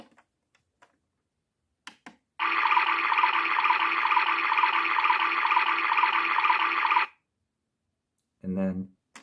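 A PlayGo toy washing machine running, a steady bright electronic whirring with watery swishing for about four seconds after a few clicks, followed by a short electronic tone.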